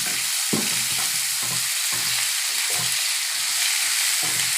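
Cashews and raisins frying in a pan of hot fat for adapradhaman payasam, a bright continuous sizzle punctuated by a regular series of soft stirring scrapes and thumps, close and fairly loud.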